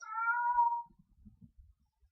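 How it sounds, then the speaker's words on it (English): A house cat gives one clear, drawn-out meow close by, followed by soft faint rustling and handling noises. "sorry, my cat."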